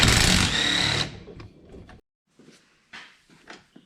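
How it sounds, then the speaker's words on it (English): A wrench works on a 17 mm cage bolt on a KRX side-by-side, with a loud buzzing ratchet burst at first, then a few short metallic clicks and clanks after a pause. "So these 2 cage bolts need to come out so we can mount our harness bracket."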